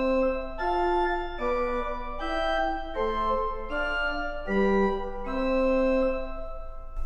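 Keyboard improvisation on a harmonic sequence: a clear, moderately soft series of sustained chords and melodic notes shifting step by step in an even, measured rhythm, played alone with no talking.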